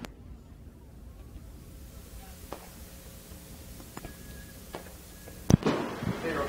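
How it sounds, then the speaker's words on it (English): Fireworks show over a speedway, lit above a turn after a Late Models race: a few distant pops and crackles through a quiet stretch, then a sharp loud burst near the end. "always putting on a great fireworks show here at the Speedway. They're lighting it up over turn number 2."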